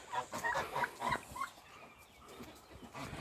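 Hens cluck softly and repeatedly nearby, a busy, uneven chatter of short calls over faint outdoor background noise.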